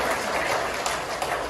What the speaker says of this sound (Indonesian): Tepuk tangan bagi Bapak Ibu sekalian.